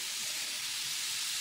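Brand Free drain cleaner reacts with boiling water in a container, giving a steady, close, broadband hiss and fizz with no pauses.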